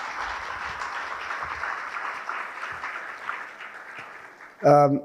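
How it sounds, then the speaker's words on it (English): A large crowd at a G20 event applauds in a sustained wash of clapping, with a voice over a loudspeaker breaking in right at the end. "So I want all of us to applaud Dr. Chinoy, Ambassador Chinoy, for his wonde"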